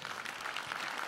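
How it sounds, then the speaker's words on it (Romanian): An audience at a comedy festival in Buzău, Romania, applauds with steady, dense clapping that fills the room without a break. "caricaturist brăilean Costel Pătrășcan, pe care haideți să-l aplaudăm!"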